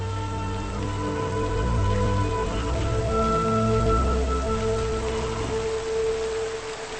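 Steady rain falls in a continuous dense hiss with a low rumble beneath, unbroken for several seconds with no voices.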